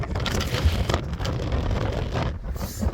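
Strong, cold gusty wind on Caoinkeen mountain summit in Ireland buffets the microphone in a continuous roar, rising and falling in loud blasts.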